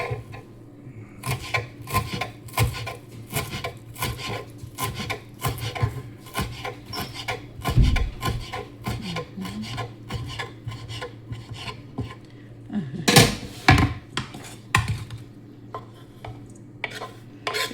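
A knife chops vegetables for a protein-rich salad, likely on a wooden board, with close, irregular sharp taps and scraping strokes over a quiet kitchen background.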